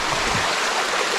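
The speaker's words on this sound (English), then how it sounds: "This is a low flow creek. There's a cascade here and it's completely choked up" A low-flow creek trickles through a choked cascade among rocks, giving a steady, close broadband rush of running water with no voices.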